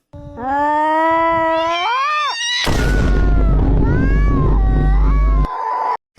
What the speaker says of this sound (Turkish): Hayatımda gördüğüm en iyi kedi kavgası gelişi olabilir.